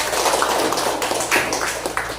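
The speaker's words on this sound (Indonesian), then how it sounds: "tepuk tangan untuk Angel" A classroom of students claps for a classmate during a maths lesson, the dense, steady patter of many hands sounding close and lively throughout.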